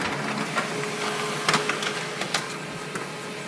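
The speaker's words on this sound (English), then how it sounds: "It will send a command for the printer to print a page." HP LaserJet Pro 3001dw laser printer printing a single page, giving a steady mechanical whir with faint clicks and brief feed clatters at moderate, close range.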